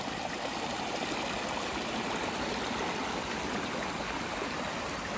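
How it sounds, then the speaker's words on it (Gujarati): Water pours steadily from a motor-driven pump at a farm well in a Gujarat village, making a loud, continuous rushing and gurgling splash with no pauses. "કૂવામાં અત્યારે મોટર ચાલુ છે ને આ રીતનું પાણી આવે છે."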